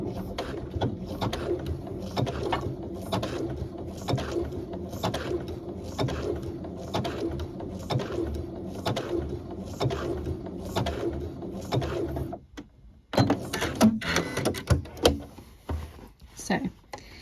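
A sewing machine stitches a wide zigzag at 4.5 width and 1.5 stitch length, whirring close in a fast, even mechanical rhythm. It stops briefly near the end, then starts again, with someone talking over it.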